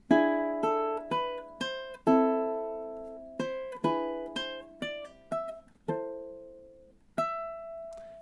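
A ukulele plays measures 10 and 11 of the Luigi's Mansion theme, a steady run of about fifteen plucked notes and chords that each ring and decay, played alone and softly at close range.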